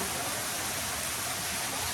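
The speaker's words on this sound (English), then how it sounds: "Another water feature, which is just beautiful." A decorative water feature fountain runs steadily outdoors in San Antonio, a continuous, even hiss of splashing water with no talk.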